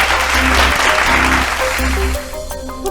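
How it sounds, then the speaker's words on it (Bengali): Studio audience applause on a family game show: steady, dense clapping that fades after a couple of seconds, with a low synth music bed pulsing underneath. "জোরে হাত তালি।"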